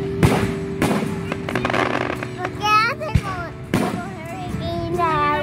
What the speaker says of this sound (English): Yeah, those are fireworks.